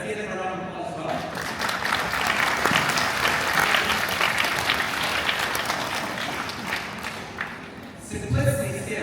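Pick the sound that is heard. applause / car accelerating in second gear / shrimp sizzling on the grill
applause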